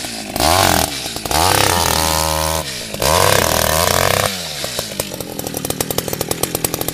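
A gas-powered ice auger bores holes through lake ice while ice fishing in Wisconsin, its engine revving in loud bursts with brief pauses between, then settling into a sputtering, ticking idle near the end.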